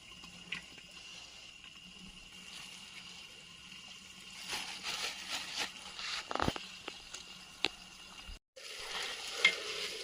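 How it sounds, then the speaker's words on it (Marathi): Potato, onion and cauliflower fry with turmeric paste, garam masala and coriander powder in a village-style pot, sizzling steadily with louder stirring scrapes and clatters in the second half. "हे बघा पूर्ण मटेरियल टाकले व्यवस्थित असं फ्राय करून घ्यायचं"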